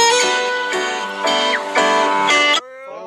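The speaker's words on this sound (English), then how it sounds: "That was my alarm, apparently." A phone alarm rings out in a loud, repeating melodic pattern of bright electronic tones, close by, before cutting off abruptly.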